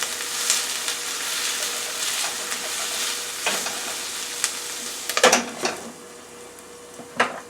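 Shrimp cooking with peppers and onions in a pan, a steady close sizzle broken by scraping stirs and clinks of utensil on metal, loudest near the end.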